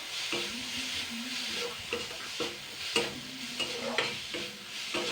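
Turmeric, ginger paste and garlic paste frying in a very little oil, a steady close sizzle broken by repeated scraping stirs of a spoon against the pan, with no talking.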